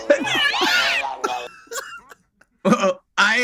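A cat-in-heat sound effect plays: a loud, wavering, yowling cry in the first second and a half, followed by short bursts of laughter and voices from people nearby.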